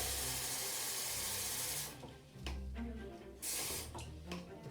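Tap water runs steadily into cups used for cleaning a fountain pen, a continuous hissing splash that drops out briefly and then returns in short, bright bursts.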